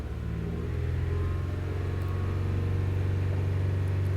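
Toyota Sienna engine held at a raised, steady idle of around 2,500 to 3,000 RPM, a constant low droning hum that stays even and unbroken throughout, close and without speech.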